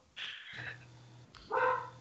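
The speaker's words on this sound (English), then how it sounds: "That's somebody's dog's barking." Somebody's dog barking in the background, a couple of short yips and barks in quick succession, fairly faint and slightly distant.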